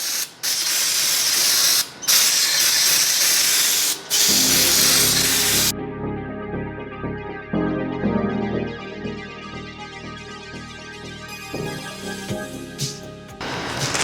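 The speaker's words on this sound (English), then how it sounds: "Spray down some brake clean." Brake cleaner sprays in long, loud, hissing bursts onto the engine surface of a 2008 Honda CR-V during a valve cover gasket job, with brief pauses between sprays before the hiss gives way to quieter background sound.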